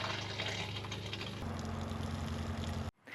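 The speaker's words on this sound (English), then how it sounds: "let's fill the tank with fresh water and turn on the pump" A travel trailer's fresh water tank fills from a hose, a steady close rushing hiss of flowing water with a low hum, shifting tone partway through before cutting off abruptly near the end.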